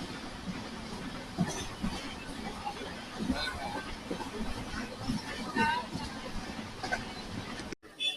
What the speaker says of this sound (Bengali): হলদিবাড়ি থেকে জার্নি শুরু করে 21 কিলোমিটার করছে আমাদের ট্রেন